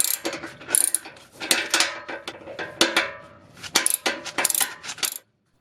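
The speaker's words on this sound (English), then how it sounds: "Then I use a torque wrench and a box wrench to tighten the fasteners to 30 foot-pounds" Wrench working the exhaust flange fasteners on a 2004 Infiniti G35X during a muffler replacement, heard as close, irregular metallic ratcheting clicks and clanks in bursts, alone without talk.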